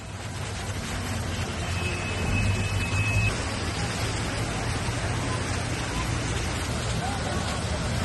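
Heavy monsoon rain pours down in Mumbai as a dense, steady roar that holds a constant level throughout, with indistinct voices faintly beneath it.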